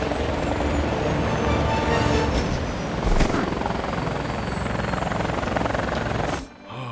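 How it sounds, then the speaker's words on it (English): A cartoon helicopter drones steadily and loudly, its rotor chop thick and continuous from start to finish before it abruptly cuts out at the very end. "I just fly the chopper."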